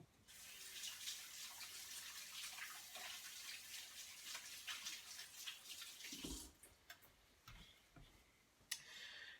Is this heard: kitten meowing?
no